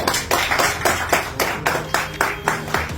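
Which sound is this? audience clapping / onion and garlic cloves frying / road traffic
audience clapping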